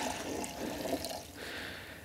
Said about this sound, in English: Gonna pour all the sap out.